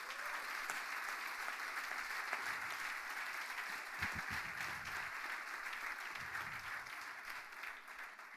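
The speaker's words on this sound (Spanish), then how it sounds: "¿Cuánto dan un aplauso fuerte al Señor?" A church congregation claps loudly for the Lord during a Spanish-language sermon, sustained dense applause that holds steady for several seconds with faint voices beneath.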